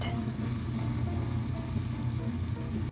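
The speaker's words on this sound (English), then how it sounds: "I would say stir fry because I really literally use a little bit of oil until it's crispy outside" Curry spaghetti noodles stir-fry in a little oil in a hexclad pot, a close, continuous crackling sizzle with fine popping texture and no talk.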